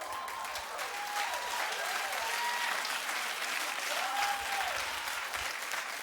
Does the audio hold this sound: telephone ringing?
no